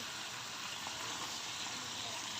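Beef pieces fry uncovered in oil with coriander powder for a korma, giving a steady, even sizzle with no breaks, fairly quiet and close.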